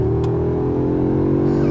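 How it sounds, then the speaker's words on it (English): A 2022 Audi S3 four-cylinder engine holds a loud, close, steady rev with a deep, smooth growl, sounding like a five-cylinder, alone without talk. "I love that engine. It's only four cylinders, but somehow the engineers have made it sound like a five."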